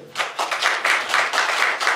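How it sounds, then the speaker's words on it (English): An audience at an interfaith panel event gives a round of applause, with repeated swelling bursts of many hands clapping in a continuous, lively stretch and no talk over it. "I believe we should all give ourselves a round of applause for being here today"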